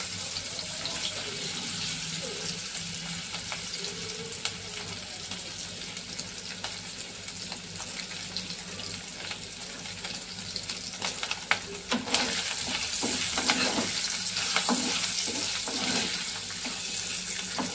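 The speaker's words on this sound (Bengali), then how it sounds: "একটু ভাজা ভাজা হয়ে গেলে এপিটোপে আমি তুলে নেব পনিরগুলো" Salted paneer cubes fry in a pan with a constant sizzle throughout, growing a bit louder and busier toward the end, with running water mixed in.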